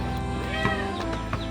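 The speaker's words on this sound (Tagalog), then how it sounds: "Meow." A cat meows in a short, mid-loudness call lasting about a second and a half, heard close over a steady hum of background noise with a brief accent partway through.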